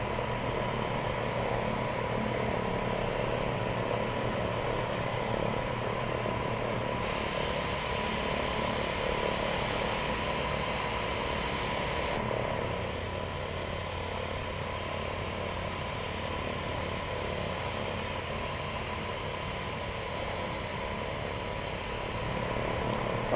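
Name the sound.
Embraer 110 propeller aircraft taxiing, X-Plane 10 video game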